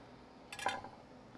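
An Iron Grove knife slicing smoked Texas Sugar dry rub ribs strikes a bone, giving one short, faint metallic clink in an otherwise quiet moment.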